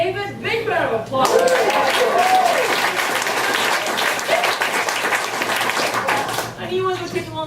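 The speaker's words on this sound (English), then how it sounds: "Big round of applause." Audience applause fills an improv comedy show at Desert Rose, a dense burst of clapping that runs loud and steady for several seconds, with voices talking over the start and end.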